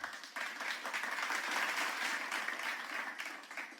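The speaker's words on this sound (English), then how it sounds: "Let's give a round of applause" A round of applause from the audience at an industrial hygiene conference award ceremony, with dense continuous clapping that swells and holds steady, sounding somewhat distant and soft.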